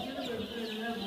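Layer chicks on a poultry farm chirp and cheep in a steady, dense chorus, close and moderately loud, with faint voices and shuffling mixed in underneath.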